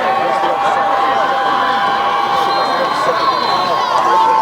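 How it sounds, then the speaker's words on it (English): Sideline crowd cheering a third touchdown for the Nantucket Whalers at a high-school football game on Martha's Vineyard, a loud, sustained roar of voices and shouts with no pause. "cheering on this 3rd score here"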